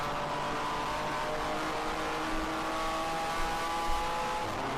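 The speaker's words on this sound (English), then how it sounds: "We switch over to the TLM with tires squealing" Race cars on DOT tires at Road Atlanta, engines droning steadily at a distance with a drawn-out tire squeal layered over the constant motor noise.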